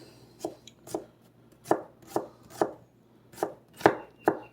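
Onions being chopped with a sharp knife on a board, about nine crisp, close knocks at an uneven steady pace, with quiet gaps between strokes and no talking.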